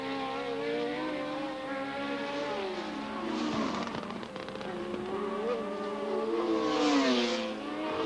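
1976 Formula 1 race cars racing, high-pitched engines whining and sweeping up and down in pitch as several cars pass and accelerate, moderately distant with a steady background rumble.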